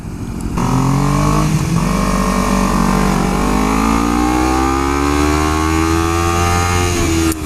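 A BMW S1000RR motorcycle engine starts up and settles into a loud, steady idle with a strong rumble and rising and falling harmonic tones, close by, with no talking.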